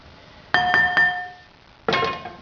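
Cooked chicken for a stir-fry moved from a hot pan into a bowl, giving a few sharp, ringing clinks of utensil against the bowl close by, then a pause and one more clink that fades out.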